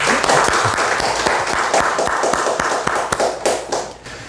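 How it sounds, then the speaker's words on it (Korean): A church congregation applauds after a Sunday service announcement, with dense hand clapping filling the space for several seconds before it begins to thin out near the end. "우리 수고하신 모든 분들께 우리 한번 박수 한번 하겠습니다."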